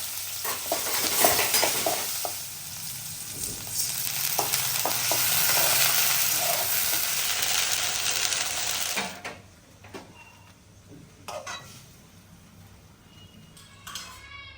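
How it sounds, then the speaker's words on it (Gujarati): Chillies, curry leaves and asafoetida sizzle loudly in hot oil as a tempering for sweet khaman, with stirring and the clink of a pan, fading into quieter kitchen clatter near the end. "આ લાગી ગયો આપણો મીઠા મીઠા ખમણનો વઘાર"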